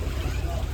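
A boat engine drones low and steady close by at a beach, with wind and water around it.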